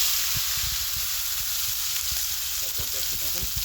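Tomato sautéing in a pan for a fish curry, with a loud, steady sizzle and frying hiss close by and a faint voice murmuring briefly underneath.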